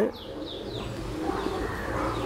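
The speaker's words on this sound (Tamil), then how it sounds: "இந்த பஞ்சாபி மல்வாய்ன்னு சொல்லுவாங்க இந்த புறா" A Punjabi Malwai pigeon, a long, high-flying breed, gives soft, low, repeated cooing close by over a faint background with a few higher chirps.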